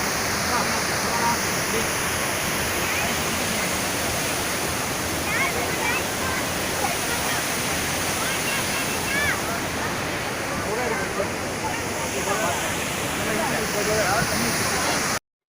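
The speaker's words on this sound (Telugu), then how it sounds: "ఈ Pykara water falls Pykara river నుంచి ఫ్లో అవుతూ వస్తాయి." Pykara waterfalls near Ooty, fed by the Pykara River, roar as a loud, constant rush of falling water, steady and unbroken throughout with no pauses.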